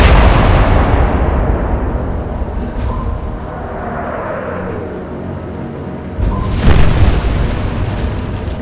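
Heavy battleship guns booming in the naval war game Atlantic Fleet: a deep rolling blast fades over several seconds, then a second loud report hits near the end, with no talk.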